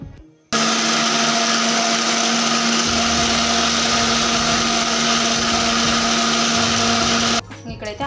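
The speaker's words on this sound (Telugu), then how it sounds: "ఇప్పుడు ఇది కూడా మిక్స్ అయితే పట్టేస్తాను" A mixer grinder grinding masala paste starts abruptly and whirs loudly and steadily for several seconds, then cuts off.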